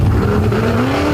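A long wheelbase Ford Bronco tough truck roars loudly and close at a racing event, its engine a dense, continuous rumble with a rising pitch as it revs.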